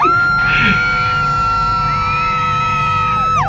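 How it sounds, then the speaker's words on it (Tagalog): Crowds of fans scream shrilly for the group SB19 in Times Square, New York City, with long sustained high-pitched cries and whoops ringing out together, loud and close. "Grabe yung mga hiyaw."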